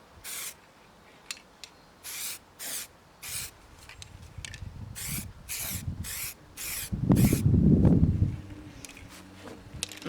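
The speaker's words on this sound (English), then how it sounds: "So we're going to do some even strokes across this now. Just give it a base coat." Spray gun laying a red base coat onto a Mazda MX-5 Eunos Roadster part in short, even hissing bursts, about a dozen close passes with brief pauses, plus a louder low rumble near the end.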